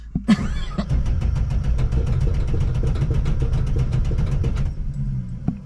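An old classic car engine cranks with a fast, even chugging of starter strokes for several seconds, then stops, loud and close with no talk over it.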